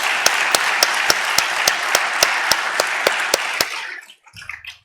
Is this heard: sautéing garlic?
no